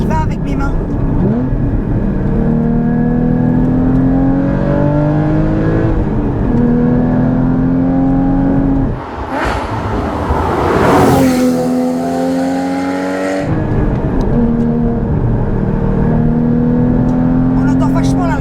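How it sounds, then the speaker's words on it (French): Porsche Cayman GT4 engine intake roaring as the car accelerates, a loud steady rising drone with gear-change dips, heard from inside the cabin while people talk over it. "On entend vachement là l'admission."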